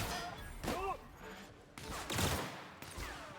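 Scattered gunfire bursts from The Outer Worlds, a sci-fi shooter game, crackling in short volleys with brief gaps, mixed with other game effects and faint background voices.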